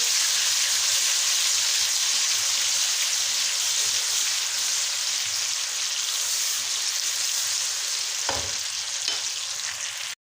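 Garlic-ginger paste and spices, including nutmeg and mace, frying in a pot for beef korma, giving a close, steady bright sizzle with an occasional stirring scrape and no voices.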